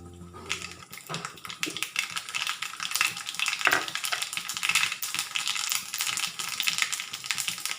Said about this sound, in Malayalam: എണ്ണ ചൂടാകുമ്പോൾ നമുക്ക് കടുക് പൊട്ടിച്ചെടുക്കാം.